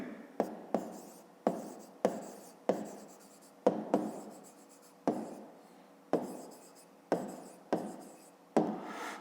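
A pen writes out a math solution by hand on paper, giving a series of about a dozen soft, close scratching strokes in an irregular rhythm, each stroke starting with a light tap and then trailing off.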